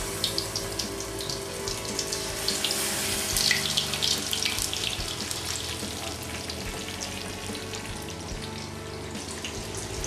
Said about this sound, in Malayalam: ഇനി ചൂടായ എണ്ണയിലേക്ക് നമ്മൾ നേരത്തെ മിക്സ് ചെയ്ത പ്രോൺസ് ഇടുക